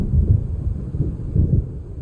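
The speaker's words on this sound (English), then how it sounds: "It seems there's a storm coming." Thunder from an approaching storm in the game Alan Wake Remastered rolls low and heavy in a few swelling rumbles, with a dull background wash between them and no voices.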